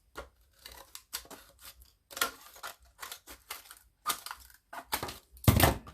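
Repeated crisp snipping and crunching as scissors cut through stiff packaging, in irregular bursts, close up, ending with a louder crinkle.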